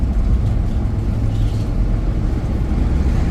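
A 2005 GMC 3500 box truck on the road gives a steady, close engine drone with low rumbling road noise, unbroken and even across the whole stretch.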